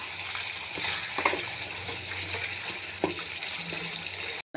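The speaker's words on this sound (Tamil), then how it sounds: "புதினா மல்லி கருவேப்பிலை தக்காளி எல்லாத்தையும் ஒன்றா கலந்துடணும் கலந்து அதையும் நல்லா வதக்கி விட்டுறணும்" Mint, coriander, curry leaves and tomato sauté together in a pan, giving a steady close sizzle with scattered stirring scrapes and clinks throughout, and no talking.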